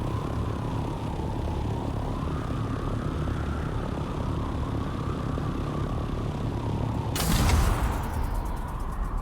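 An ornithopter flies in a Dune game, a steady droning whir of engine and beating wings held at a constant level, then a sharp burst of rushing noise near the end, with no voices.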